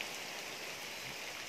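Steady rain falling in Saheliyon ki Bari garden in Udaipur, a soft, even hiss of drops with no voices, fairly quiet throughout.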